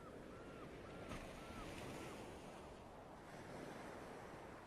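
Ocean waves rolling and washing ashore in a continuous, moderately soft roar, with gentle swells rising and easing over several seconds and a hint of wind; no one speaks.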